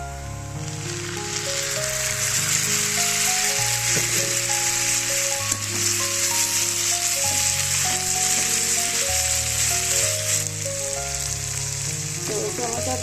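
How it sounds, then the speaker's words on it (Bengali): Chopped tomato goes into a pan of onions fried until reddish for an egg masala, giving a steady, bright sizzle that holds for the full length, with music playing underneath and no one speaking. "তো পেঁয়াজের ভিতরে আমি দিয়ে দেবো টমেটো কোচানোটা।"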